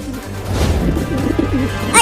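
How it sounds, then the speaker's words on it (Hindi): Cartoon pigeon giving a brief soft coo, low and burbling, over a busy animated background with a small crash at the end. "उड़ गया कबूतर चिंटू"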